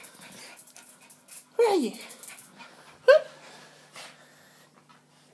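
A puppy lets out two distinct whimpering yelps with soft panting and breathing between them, close by, while someone speaks to it.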